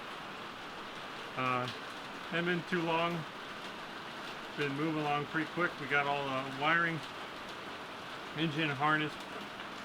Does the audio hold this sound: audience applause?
no